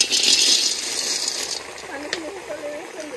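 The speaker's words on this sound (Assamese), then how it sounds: "তো এইফালে আমি পানীৰ পৰা উঠাই আমি ডাইৰেক্ট কেৰাহীত দিলো এনেকে" Snails lifted from water go straight into a wok with a hissing rattle of shells, loudest at first then settling into a steady sizzle, up close.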